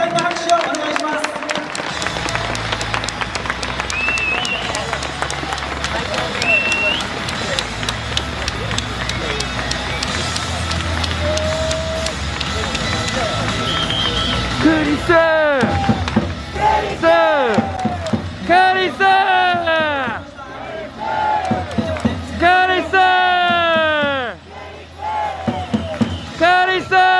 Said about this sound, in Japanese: スタンドの皆様、ジョンソン投手に今一度盛大な拍手をお願いします。